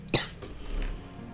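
One short, close cough breaks the quiet, followed by low room hum and soft background noise.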